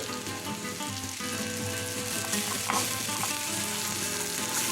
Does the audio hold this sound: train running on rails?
no